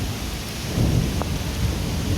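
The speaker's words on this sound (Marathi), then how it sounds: "पाऊस किती झाला आहे तिकडे तर बघा" Dense, steady roar of heavy rain with deep rumbling underneath, like a storm pouring down nearby; no voices.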